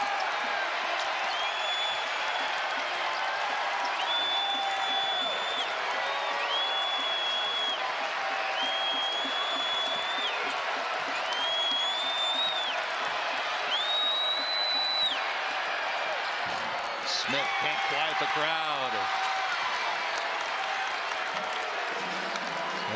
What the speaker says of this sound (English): And the crowd is on their feet here in Chaifetz.